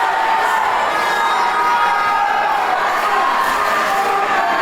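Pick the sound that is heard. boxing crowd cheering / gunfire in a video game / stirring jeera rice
boxing crowd cheering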